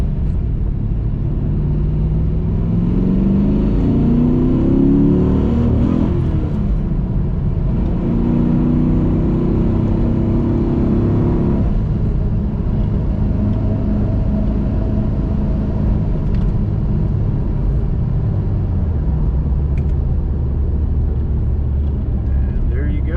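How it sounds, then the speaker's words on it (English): A car accelerates hard in first gear, the engine rising in pitch before the shift, then pulls on through the next gear with a steady loud rumble heard from inside. "Get out of first gear."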